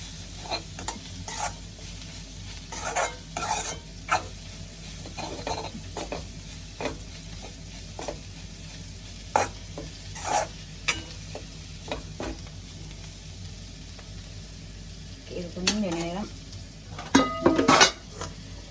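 A spoon stirs coconut paste and a little turmeric into vegetables in a pan, giving repeated scraping strokes over a steady low sizzle, with a few louder clinks of the utensil against the pan near the end; no one speaks.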